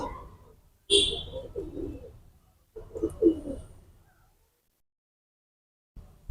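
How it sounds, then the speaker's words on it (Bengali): A golden male pigeon gives short, close cooing calls in two brief bursts separated by quiet, with a soft low voice also present. "এটা গোল্ডেন কবুতর, গোল্ডেন নর"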